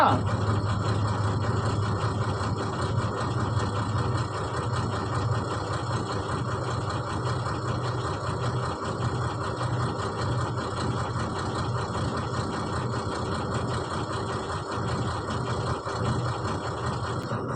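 A vehicle engine idles steadily at close range while being parked, a continuous low rumble with a faint knocking texture that holds evenly throughout with no change in pace.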